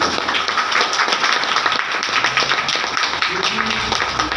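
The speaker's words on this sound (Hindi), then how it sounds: "यहाँ आया तो बजाओ एक बार ताली अच्छी" Steady applause from a crowd at a Brahma Kumaris class in a hall, many hands clapping continuously at a moderate, even level without pauses.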